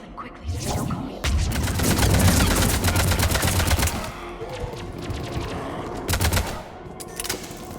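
Rapid bursts of automatic gunfire crackle through a firefight in Mass Effect, loud and dense with overlapping shots and a few heavy thumps, pausing briefly before another volley.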